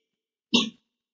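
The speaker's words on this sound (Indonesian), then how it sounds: "siapa tuh yang batuk?" A single short, sharp cough, close by and fairly loud, breaking an otherwise silent moment.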